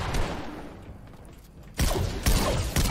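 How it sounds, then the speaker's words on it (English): Gunfire in a video game: a few loud sharp shots and impacts in the second half, following a quieter stretch of low background game noise. "Oh, I'm getting shot by another dude."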